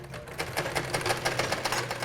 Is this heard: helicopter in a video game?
no